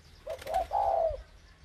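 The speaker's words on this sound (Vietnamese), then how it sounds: "đôi chim non bố này, bố đang gáy này" Young spotted doves give one soft, rounded cooing phrase made of a short lead-in note and a longer, drawn-out coo, close and clear against a quiet background.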